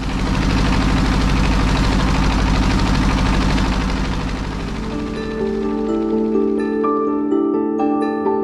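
Motorcycle engine on a ride across rural Barisal toward a bridge, a loud steady low drone close to the microphone that eases off toward the end as tonal hum and ringing overtones take over.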